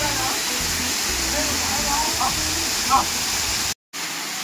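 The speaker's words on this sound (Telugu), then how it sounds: "వాటర్ ఫాల్స్ అయితే వచ్చినాయి అనమాట" A waterfall in the Ananthagiri Hills gives a steady, close, continuous rushing roar that drowns out everything else, cut by a brief silent gap near the end.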